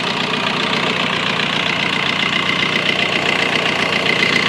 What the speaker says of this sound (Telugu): మీకు ఇంజన్ సౌండ్ కూడా చూసుకోవచ్చు.